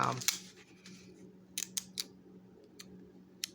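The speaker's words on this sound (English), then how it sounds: "with this scrapbook scissors with the decorative edges" Decorative-edge scrapbook scissors snip paper in a few sharp, separate cuts, with quiet pauses between them and faint room noise underneath.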